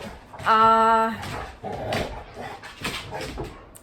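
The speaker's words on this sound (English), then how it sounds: "oh, my dogs are acting crazy." Dogs at home bark and whine, with one long sustained yelp up front, then several shorter barks and whimpers close by.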